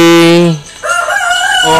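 A person's voice imitates a rooster crowing in a loud, drawn-out call with a short break in the middle, close to the listener.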